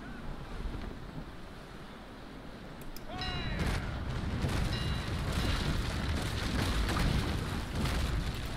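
Ship cannons firing a broadside in the naval game Naval Action, a rolling series of heavy booms over wind and surf, following a faint whistling tone.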